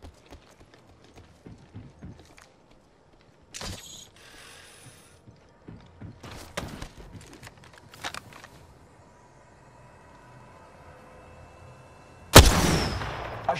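Video game gunfire aimed at a cargo bot, heard as scattered sharp shots and mechanical clicks at moderate level over quiet gaps, ending in one loud, close blast.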